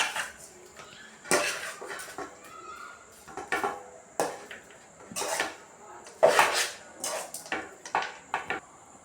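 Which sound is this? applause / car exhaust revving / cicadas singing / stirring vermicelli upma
stirring vermicelli upma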